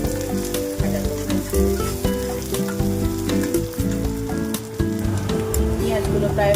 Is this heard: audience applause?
no